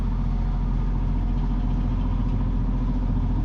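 Steady low diesel-style drone of a sailboat's auxiliary engine while motoring into a headwind in the Java Sea, a continuous even rumble with light clatter and no talk.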